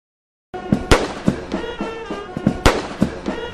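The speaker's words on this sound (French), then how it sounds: "21 coups de canon tirés à blanc résonnent depuis le parvis du Jubilee House d'Accra au Ghana." Booming blank cannon shots of a 21-gun salute ring out in Accra, Ghana, at Jubilee House, several sharp reports at irregular intervals with echoing rumble between them, heard from a moderate distance.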